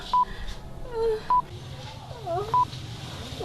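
A telephone keypad dialing a number, with distinct short tones spaced about a second apart, clear over a quiet room with faint moaning in the background.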